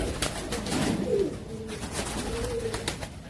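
Pigeons coo softly in a few low, rolling calls against light background noise and faint rustling.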